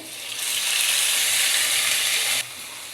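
Whole spices (bay leaf, cumin, cardamom, cinnamon) hit hot oil with fried onion in a pan, a loud close sizzle that swells in and then cuts down sharply near the end, with no voices.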